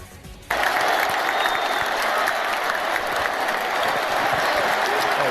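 Opposing supporters applaud at Castelão stadium after a Flamengo goal, a dense, steady roar of clapping and crowd noise that swells suddenly from quieter ambience and holds loud throughout.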